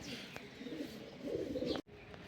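Cooing from female racing pigeons in a loft, a steady low murmur running through most of the stretch with a louder swell near the end before a brief cutoff.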